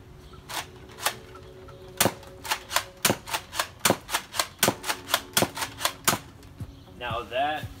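Nerf Doomlands shotgun-style dart blaster with a rotating six-shot cylinder, heard as a rapid run of sharp plastic clacks and snaps from priming and firing, close and loud, with a brief voice near the end.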